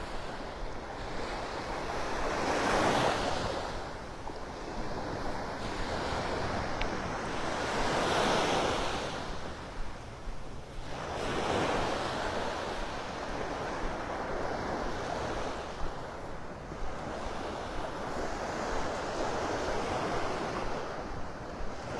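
Surf rolling onto Vanderbilt Beach in North Naples, Florida, with wind buffeting the microphone; waves swell and break in slow rhythm every few seconds, steady and fairly close, with no voices.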